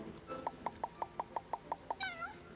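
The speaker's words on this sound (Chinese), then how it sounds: "我要先去把这只猫给捡到。 捡猫咪，捡猫咪。" A cat meows repeatedly in a video game, about eight short even-spaced mews followed by one longer drawn-out, falling meow, clear and up close with no talking.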